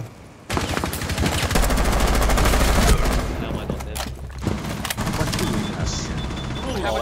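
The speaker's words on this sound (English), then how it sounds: "Why would you run towards the gunfire?" Dense gunfire and rapid automatic bursts in Rainbow Six Siege, loud and sustained through most of the stretch, with players talking over the shooting.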